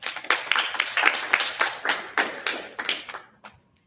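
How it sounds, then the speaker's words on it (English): Applause at a cross country team banquet for the junior runners: roughly a dozen sharp, evenly spaced claps, nearby and fairly loud, that end abruptly. "Ladies and gentlemen, another round of applause for our next year's junior runners."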